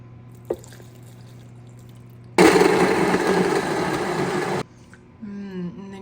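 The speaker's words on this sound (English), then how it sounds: "And then lastly, we're gonna add the hot potato water." Hot potato water pours into a blender in a steady, loud rush for about two seconds, then stops abruptly; faint clinks and a short whirring follow.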